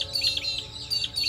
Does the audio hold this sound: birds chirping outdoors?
yes